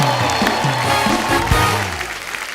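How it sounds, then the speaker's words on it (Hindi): Studio audience applause on The Kapil Sharma Show, a Hindi comedy talk show: steady, dense clapping fills the whole stretch, with bright show music ringing over it. "तालियां बजती रहनी चाहिए।"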